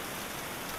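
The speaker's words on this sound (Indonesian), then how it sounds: "Hujan pun." Rain falls steadily, a dense continuous hiss of drops on surfaces, even and unbroken throughout, with no voices.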